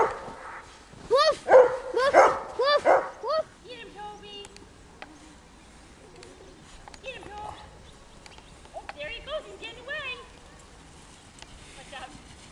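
Dog barking in bursts near the start, loud and close, then quieter intermittent whines and yips with some voices nearby.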